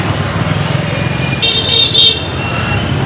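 Street traffic rumbles nearby in Hanoi, Vietnam, as a vehicle horn toots briefly, blending into the engine noise of passing cars and motorbikes.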